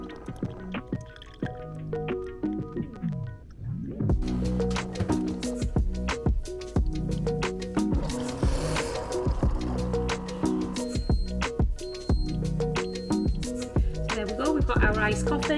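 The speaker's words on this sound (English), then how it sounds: "you press this and then it will brew the coffee" An iced-coffee brewer at home drips and gurgles as coffee pours over ice, with rattling, splashing and sputtering bursts that grow louder partway through.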